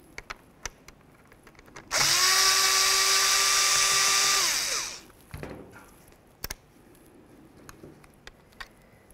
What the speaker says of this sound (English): we're going to remove the 3 Phillips head screws